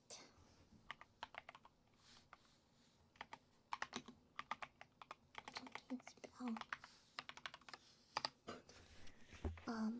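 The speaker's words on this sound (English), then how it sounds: "I cleaned my keyboard. I don't know if there's a difference in how it sounds" Rapid clicky keystrokes on a computer keyboard in bursts and pauses, close and crisp, with a soft voice briefly underneath.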